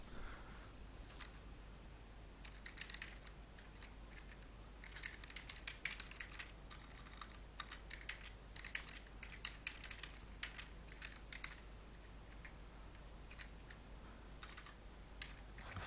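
Computer keyboard typing out program code for a Python bubble sort, steady bursts of quick close key clicks with brief pauses between phrases, no voices.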